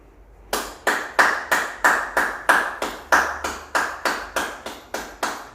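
A church congregation claps in unison at a steady, brisk rhythm, about a dozen loud, even claps in a row that echo slightly in the room, with no voices over them.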